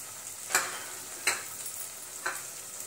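Ground spices, including coriander powder, turmeric and red chili powder, sizzle in hot oil while being sautéed for mushroom masala, with a soft steady frying hiss and three brief louder stirring bursts, with no voices.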